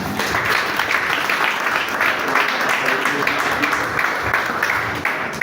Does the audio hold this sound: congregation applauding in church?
yes